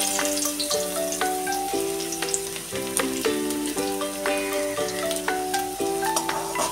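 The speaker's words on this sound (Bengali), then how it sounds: "রসুনটা একটু ভেজে নেব ব্রাউন হওয়া অবধি" Crushed garlic fries in hot oil for a jute-leaf jhol, a continuous crackling sizzle running beneath louder melodic background music throughout.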